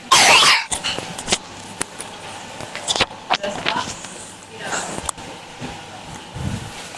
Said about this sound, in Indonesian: Batuk lagi.